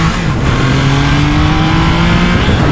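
The Triumph Trident 660's triple-cylinder motorcycle engine revs hard, a loud, steady, rising engine howl heard close up throughout with no pauses.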